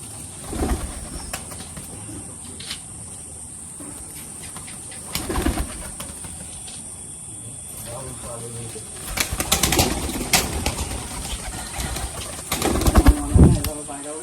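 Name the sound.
Madrasi pigeons cooing and flapping wings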